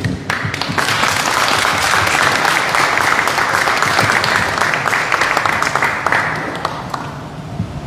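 A large audience applauds to welcome a speaker at a commemorative event at an art museum, loud sustained clapping throughout that tapers slightly near the end.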